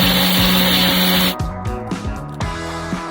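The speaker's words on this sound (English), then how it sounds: "I'm going to dry grind this coarsely." A mixer grinder dry grinds cooled fried onions, garlic and green chili coarsely, a loud steady whir for over a second, then cutting to short stop-start pulses of the motor.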